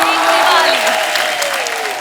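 A studio audience on a comedy show bursts into loud, steady applause to welcome actor Ajay Devgn, a short dense wash of clapping with crowd noise and music underneath.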